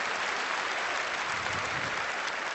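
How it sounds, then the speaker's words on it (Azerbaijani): An audience claps warmly for a woman at a hosted stage event, a thick, uninterrupted burst of applause at even loudness from start to finish. "Xahiş edirəm xanımımızı ürəkdən alqışlayaq."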